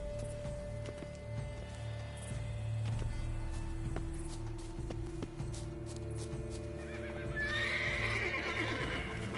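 A horse in The Witcher 3 video game whinnies over a low ambient game soundscape, with hoof clip-clop and faint background music, all at modest volume and with no talk.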